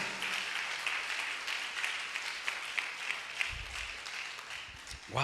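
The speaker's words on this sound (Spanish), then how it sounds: "Dale un fuerte aplauso al Señor. Vamos a aplaudirle" Congregation applauding at an in-person church service, a steady dense wash of clapping held at moderate level throughout, with a low thump near the end.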